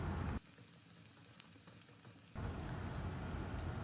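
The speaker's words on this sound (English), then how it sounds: "on medium flame we will saute them well until the raw taste of onion, ginger, garlic goes away" Onion, ginger and garlic sauté in a pan over a medium flame, giving a steady close sizzle that drops to a quieter hiss for a couple of seconds before rising again to full crackling.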